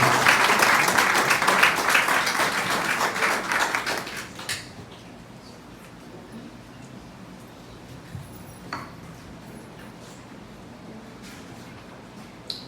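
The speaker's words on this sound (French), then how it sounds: "Applaudissez cet esprit de Dieu avec nous" A church congregation applauds in a dense burst of clapping for about four seconds, which then stops abruptly, leaving a quiet room with faint scattered knocks.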